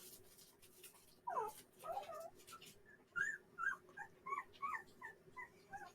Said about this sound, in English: You can hear the puppies.